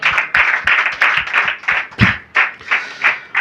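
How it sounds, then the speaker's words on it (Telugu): An audience claps together in a steady, rhythmic pattern of about a dozen loud, evenly spaced claps, close and clear with no talking. "అందరూ చప్పట్లు కొడదామా?"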